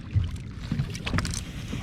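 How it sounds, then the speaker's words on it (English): A passing boat and its wake on the water during winter catfishing give a low rumbling wash with wind buffeting the microphone, brief and close, with no talk. "that boat had to come by"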